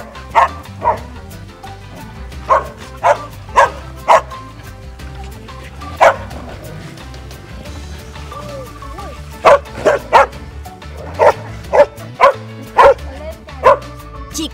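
Dogs bark in repeated short, sharp bursts, spaced irregularly across the clip in clusters, fairly close and loud above a steady low background.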